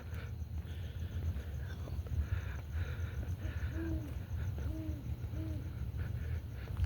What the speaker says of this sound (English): sounds like the owl is pretty close